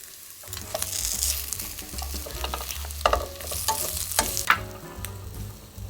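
Vegetables in egg batter sizzle in a lightly oiled pan, a close, steady frying hiss broken by repeated scrapes and taps of a spatula.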